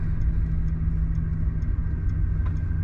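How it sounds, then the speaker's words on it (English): Steady low engine drone and road rumble from a 1992 Ford F-250 XLT 4x4 pickup with a 5-speed manual, heard from inside the cab while driving, continuous and even with no talk. "Today we're driving a 1992 Ford F-250 pickup truck."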